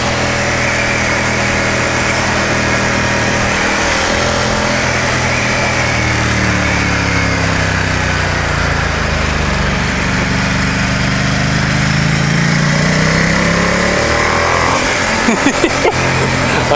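Ducati XDiavel motorcycle engine on a test ride, a steady loud drone with rising and falling revs throughout, wind rush layered on top and a few sharp knocks near the end.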